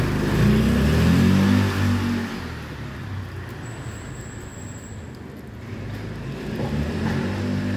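A car accelerates along Soi Honey, a street off Soi Buakhao. The engine surges loud and close for about two seconds, then fades into a steady background wash of street traffic.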